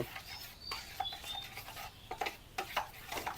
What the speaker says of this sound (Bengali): এখন আমি চিনিটাকে ভালো করে বেলের রসের সাথে মিশিয়ে নেব।